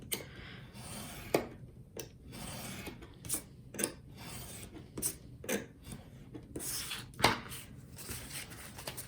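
Card paper being cut for kindness cards, a series of short crisp slicing strokes at irregular intervals, close and quiet, with soft rustling between cuts.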